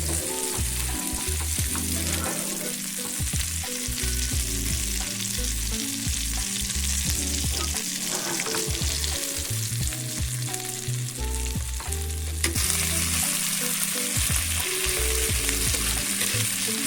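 Fish frying on a tawa in a spicy Bengali-style fry, a steady close sizzle that carries on without a break, with occasional stirring and scraping noises over it.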